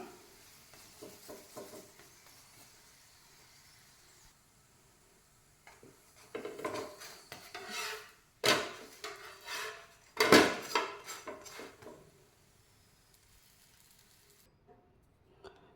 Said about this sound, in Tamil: கொஞ்சமாக ஆயில் போட்டு நல்லா 2 சைடு திருப்பி நல்லா ஃப்ரை பண்ணிக்கலாம்